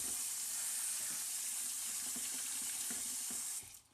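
Tap water runs steadily into a container to rinse cut aloe vera, a continuous hissing splash that lasts several seconds before cutting off.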